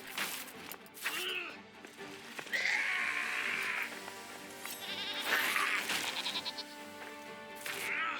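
A goat in the video game Return to Moria bleats several times, loud and close, with harsh, wavering cries spread across the stretch over a busy game background.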